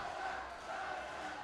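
A wrestling crowd at an indoor show roars and cheers in a brief, continuous wash of many voices heard at moderate loudness.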